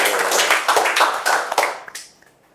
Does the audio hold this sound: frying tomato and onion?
no